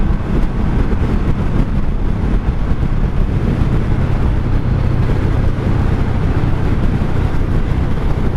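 A 1984 Honda Shadow 700 VT700C cruiser rides at night at about 70 mph on the highway, a loud, constant low engine drone buried in heavy wind rush that never lets up.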